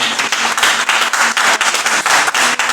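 A church congregation claps and cheers through a worship service, loud dense applause with sharp rhythmic claps pulsing steadily throughout, no voices standing out.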